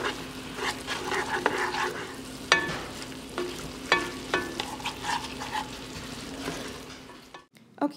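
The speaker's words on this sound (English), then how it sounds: "we just want to add in our tomato paste, 1 tablespoon. And mix that up" Vegetables and tomato paste stirred in a pot for a beef stew with Irish stout, a steady scraping and sizzling with sharp utensil clicks against the pot, close and continuous, ending in near silence.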